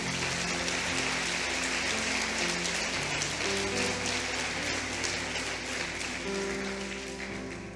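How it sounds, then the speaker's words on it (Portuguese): A church congregation applauds in worship, a loud, continuous roar of clapping that fills the room, with sustained musical tones underneath and a slight fade toward the end. "Aplauda ao Senhor Jesus se você crê."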